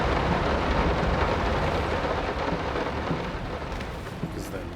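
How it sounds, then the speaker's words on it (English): Steady rain pours in the game Layers of Fear, a dense, continuous wash of drops with low thunder-like rumble underneath, close and fairly loud throughout with no talk. "That's a really localized rain."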